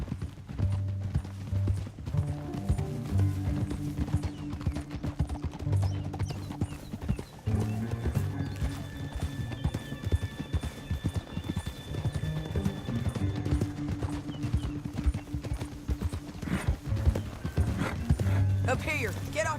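Horse hooves clip-clop steadily on a trail in the Western game Red Dead Redemption 2, a close, even walking rhythm that runs under a low background score, with characters talking over it.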